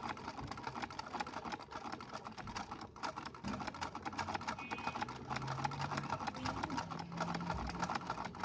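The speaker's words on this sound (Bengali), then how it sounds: "এবার একটা কাপড় নিয়ে সেলাই পরীক্ষা করে দেখব মেশিন ঠিক হয়েছে কিনা" A Singer sewing machine, just serviced and with its tension nut set too tight, runs steadily as it stitches a test piece of cloth, a continuous close mechanical whir with no voices.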